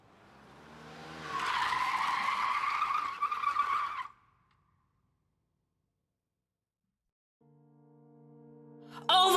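A car skids hard and loudly for about three seconds before striking a character in the video game Close to Obsession, then cuts to silence, followed by a tonal game sound rising at the end.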